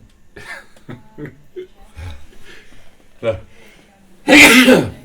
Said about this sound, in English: Every time I say desperate, I sneeze.